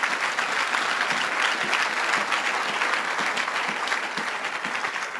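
Applause from an audience at an evening religious gathering, a dense steady clapping held throughout and slowly easing toward the end, moderately distant, with no voices over it.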